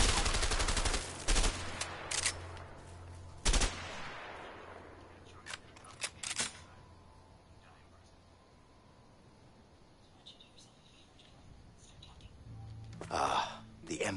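M14 rifle gunfire in the video game A Way Out: a few loud, close, booming shots in the opening seconds fade into a long echoing tail, then more bursts at the end, with a voice speaking in between.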